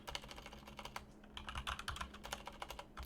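Keys on a computer keyboard are struck in quick, uneven bursts of close clicking and tapping, quiet overall. The typing pauses briefly and then picks up again, with no voices.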